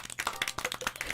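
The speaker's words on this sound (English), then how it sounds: "Clap, clap, clap." Hands clap in a quick, uneven run of about a dozen sharp claps, close and fairly quiet, with no talking.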